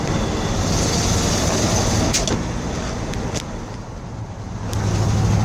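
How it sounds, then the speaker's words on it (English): A 1970 Ford F250 farm truck runs in third gear, giving a steady, loud engine and road drone with a few brief higher-pitched clicks or squeaks, and no talking. "We're in 3rd gear right now."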